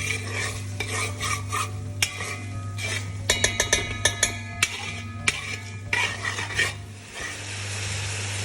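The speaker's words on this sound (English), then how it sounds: "Lovely sounds of the mutton being bhuned now, along with the onion, ginger garlic, khada masala mix." Mutton sizzling in a pan with onion, ginger, garlic and whole spices, stirred with a metal spoon that scrapes and clinks against the pot in quick bursts over a steady frying hiss.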